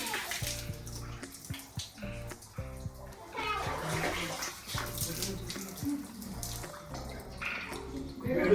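Water running steadily at a temple spring, a continuous splashing flow under voices and background sounds.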